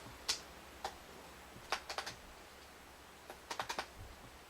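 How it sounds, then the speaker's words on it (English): Keys clack on a computer keyboard while an if statement is typed, sparse single taps followed by quick bursts of three or four keystrokes, close and fairly quiet. "So now we're going to start typing our if statement."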